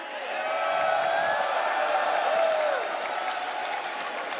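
A large crowd at a Street Fighter 6 tournament at EVO roars and cheers in a sustained wash of noise, swelling and holding steady with scattered whoops.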